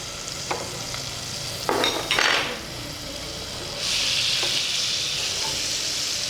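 About a tablespoon of butter sizzles in a pan for a red wine sauce, with a few stirring scrapes and taps before the sizzle swells into a steady close hiss.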